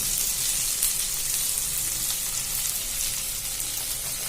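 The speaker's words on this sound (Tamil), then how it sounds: "தக்காளி வெங்காயம் நல்லா வதங்கிடுச்சு." Tomato and onion frying in a pan for a potato curry give a steady, dense sizzle with faint stirring scrapes, close and continuous throughout with no talk.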